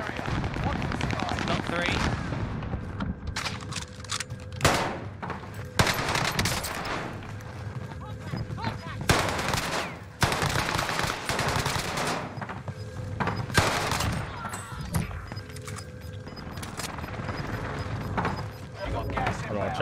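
Rapid bursts of automatic gunfire in a shooter video game, fired from an Owen gun build, crackle loudly and repeatedly in close bursts, with someone talking excitedly over the shots.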